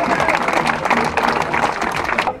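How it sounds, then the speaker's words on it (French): Audience applause at a catfishing trophy event on the Loire, a dense burst of clapping that holds steady at close range, with voices mixed in under it. "ça mérite un applaudissement"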